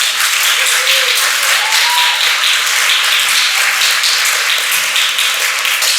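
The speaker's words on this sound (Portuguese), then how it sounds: "peço uma salva de palmas para ela" An audience applauds anthropologist Sara Almeida at a gathering on traditional knowledge and musical practices in the Acre Amazon, with steady, dense clapping filling the space throughout and a few faint voices mixed in.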